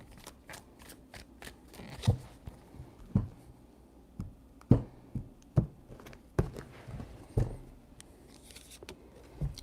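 A deck of tarot cards is shuffled in a series of quick riffling bursts and sharp taps, close and moderately loud, with short pauses between them and no voices.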